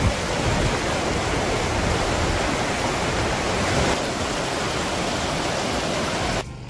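A loud, continuous roar of a nearby waterfall, a thick rushing wash of water that fills the whole clip before cutting off abruptly.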